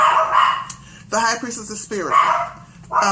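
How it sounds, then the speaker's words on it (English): Dogs bark repeatedly in short bursts near the microphone, mixing with a person talking between and over the barks. "Sorry about the dogs."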